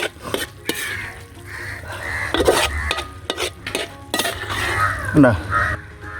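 Beef stir-fried in a pan until dry, with repeated stirring scrapes and a soft background sizzle, utensil knocks against the pan, and brief bits of voice in between.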